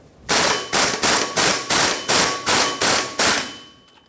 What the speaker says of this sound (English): After this gets broken free with the air gun, or whatever tool you're using